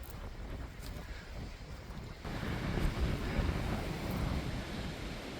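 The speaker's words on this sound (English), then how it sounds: "It's a little breezy right now" A breeze blows outdoors at an RV site on Canada's east coast, buffeting the microphone with a steady rushing noise that grows louder partway through.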